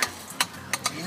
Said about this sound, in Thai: ใส่ลงไปชีสครับเนยใส่ไปเลยโอ้โหจะได้ยินเสียงนะฮะ